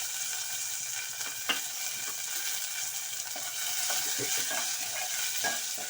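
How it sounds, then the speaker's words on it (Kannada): Curry leaves, green chillies and ginger fry in hot oil for upma, a steady crackling sizzle running throughout with occasional sharper pops and stirring scrapes. "ಎಲ್ಲವನ್ನು ಫ್ರೈ ಮಾಡ್ಕೊಳ್ಳಿ"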